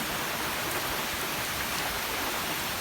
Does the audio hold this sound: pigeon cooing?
no